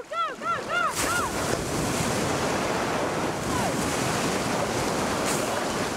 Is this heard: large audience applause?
no